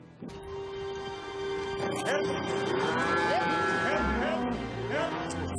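Cattle spread across a valley moo repeatedly, several drawn-out calls at varying distances over a constant outdoor rumble, with people talking in the background.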